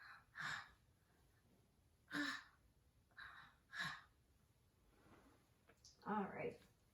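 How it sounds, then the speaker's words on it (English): A patient takes deep breaths during a basic medical assessment: soft, breathy inhales and exhales repeat about five times at an uneven pace, close by and quiet. "deep breath."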